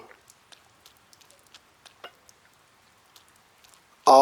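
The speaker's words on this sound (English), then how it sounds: "It's raining." Rain falls in the video game Persona 4 Golden as a faint, sparse patter of scattered drops, then a sudden loud burst cuts in at the very end.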